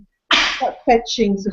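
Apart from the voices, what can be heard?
sneeze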